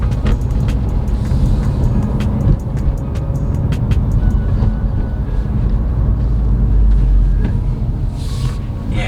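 A Subaru WRX STI engine rumbles loud and steady while driving, its low drone rising and falling through gear shifts, with faint clicks overhead.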